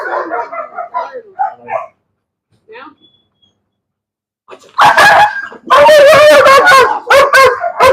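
Apollo, a dog in bite work training, barks in loud rapid bursts after a calmer stretch, with a person talking near the start and during the quiet gap.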